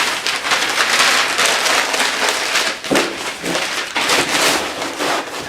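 Packing paper torn in half by hand while packing a small wood sign for shipping, a loud close crackling rip lasting several seconds with brief crinkly bursts.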